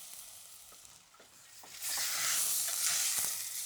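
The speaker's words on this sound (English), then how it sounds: "I'm going to deglaze the pan with a splash of white wine" White wine hits a hot pan and bursts into a loud, steady sizzle that swells suddenly partway through, with a few faint clinks before it and no talking.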